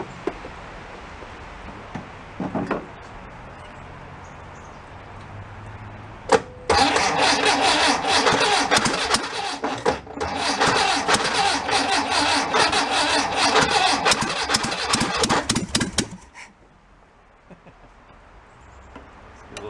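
An old barn-find Volkswagen engine cranks briefly, then catches and runs loudly and roughly for about ten seconds before cutting out to quiet.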